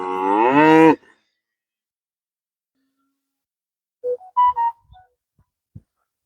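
Cattle on a farm pasture moo, first with one long, loud, close call and then, after a pause, with a few shorter, fainter lows. No one talks over them.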